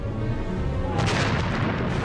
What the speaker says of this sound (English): There was a terrible explosion on Good Hope between her mainmast and her after funnel.